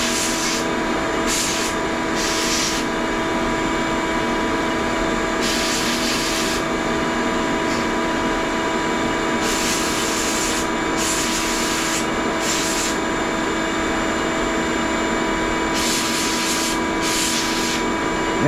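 A media blaster blasting brass hardware gives a continuous loud hiss of spraying abrasive, with higher bursts of blasting that come and go every second or two, close and with no talking.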